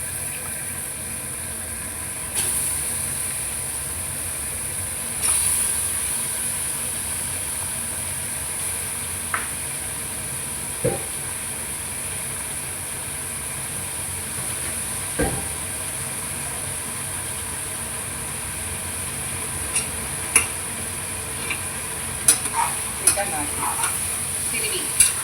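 A kilogram of washed chicken goes into a pan of cooked-down onions for biryani, setting off a steady, close sizzle with a few scattered clinks and scrapes, and no one speaking.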